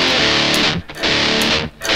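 A heavily distorted electric guitar plays a riff, loud and dense, with two brief gaps breaking the chugging rhythm.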